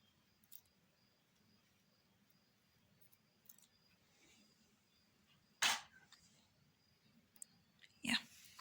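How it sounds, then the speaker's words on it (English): Scissors cutting crochet yarn, two sharp close snips standing out from a quiet room, with a few faint handling clicks in between. "And then I cut the yarn."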